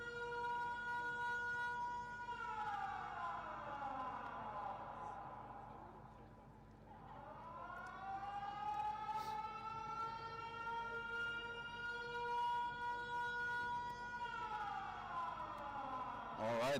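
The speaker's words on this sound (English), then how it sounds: "The sirens are starting." Warning sirens wail at a rocket launch site during a rocketry competition, a distant, rising and falling electronic howl that swells, dips, then climbs again over a low background hum.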